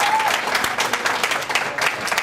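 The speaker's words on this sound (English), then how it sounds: "just give them a round of applause to start us out?" A crowd at a school sendoff event for a group of boys bound for Ireland claps loudly and close, a thick, steady burst of many hands.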